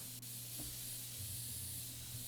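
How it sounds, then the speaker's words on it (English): Compressed air spraying inside PC Building Simulator, a soft steady hiss running throughout over a low hum, with a faint thump near the start. "compressed air. Spray it as much as we can."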